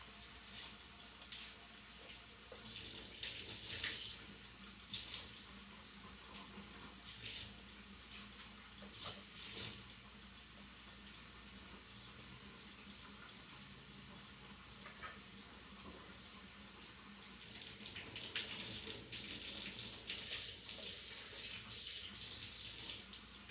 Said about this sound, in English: We can turn off the water